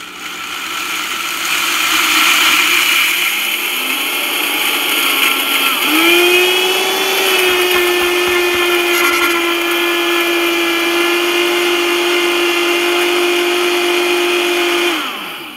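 A Vitamix blender fitted with a personal cup grinds whole spices such as coriander in a loud, continuous motor whine that ramps up in pitch, settles into a steady high drone, then cuts off abruptly.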